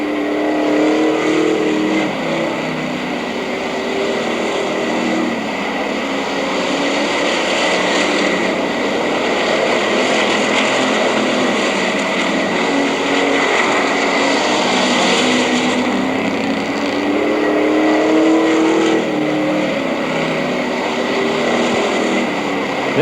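Race cars lap the Mt. Clemens Racetrack in 1984 with a continuous loud engine roar that swells and fades as cars pass. Steady high whine and crowd-like wash sit under it, and no talk is heard.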